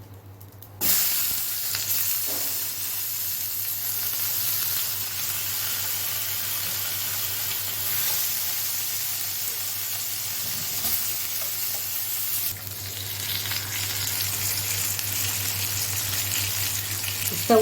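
Meat, steamed in the oven first, now sizzling on a grill: a loud, steady, close hiss that holds for the whole stretch with a low hum beneath and no talking.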